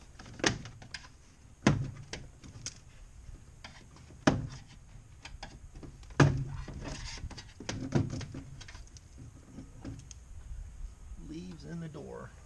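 A car's interior door panel is pried loose, giving a series of sharp plastic pops and thunks at irregular intervals. Quiet rustling and a low voice fill the gaps.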